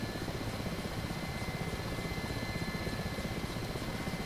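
Mi-8 transport helicopter in the DCS World flight simulator during lift-off, its main rotor giving a steady low rhythmic thump over a continuous turbine whine, loud and constant throughout with no voices.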